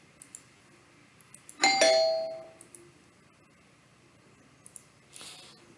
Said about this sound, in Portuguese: Espero eu atender a campainha de novo